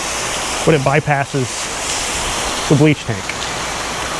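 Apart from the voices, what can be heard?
pressure washer rinsing a new construction home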